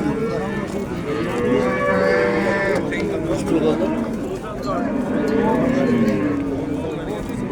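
Several drawn-out cow moos, close and loud, overlapping one another at the Chust livestock market in Uzbekistan while people talk in the background throughout.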